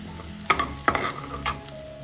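Ginger and onion fry in oil for chilli pappad, with three distinct scraping stir strokes of a spoon against the pan over a low continuous sizzle.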